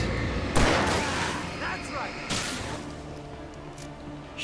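Gunshots ring out in Alan Wake Remastered, two loud blasts about two seconds apart with fainter shots and game noise between, while a player talks over the action.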